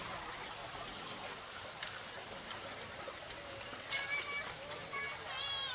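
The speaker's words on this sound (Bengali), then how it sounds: "এই যে মিস ঐশী, এখানে বুশক্রাফটের পাশেই আরেকটা ঝিরি আছে।" A forest stream in the hills of Bandarban splashes and trickles steadily close by, with occasional louder splashes toward the end while people talk over the flowing water.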